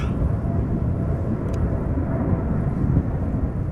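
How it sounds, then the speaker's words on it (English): An Emirates SkyCargo Boeing 777 cargo jet climbing out from Amsterdam Schiphol, a steady heavy low rumble of engines rolling on throughout, distant but loud, with no talking. "Is that an Emirates Sky Cargo triple?"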